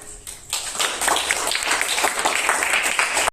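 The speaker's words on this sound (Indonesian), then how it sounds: "Oke, beri tepuk tangan." Classroom applause from students in a lesson, a burst of many hands clapping for about three seconds, steady and fairly loud, ending abruptly.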